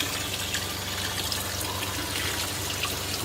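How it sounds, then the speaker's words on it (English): Water runs from a pumped sink tap inside a converted bus, a steady, even rush and trickle heard close up with no talking. "Water is running."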